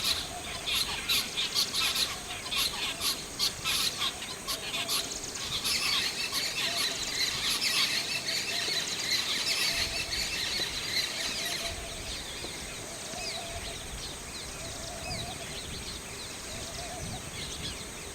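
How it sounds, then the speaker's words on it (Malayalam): Parakeets, mynas and babblers squawk and screech repeatedly while feeding on scattered wheat, rice grains and mixture alongside squirrels, a busy chorus of harsh calls close by, thinning out toward the end. "തത്തകളും മാടത്തകളും അണ്ണാനും കരിയിലെ കിളികളും ഗോതമ്പും മിച്ചറും അരിമണികളുമൊക്കെ കൊത്തി തിന്നുകയാണ്"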